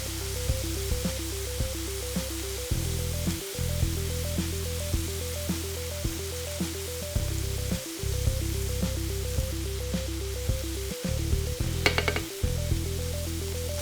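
A spatula stirs and pushes meat and flour around a hot frying pan as it sizzles for potato soup. Steady close frying hiss with repeated scraping strokes and a few brief breaks.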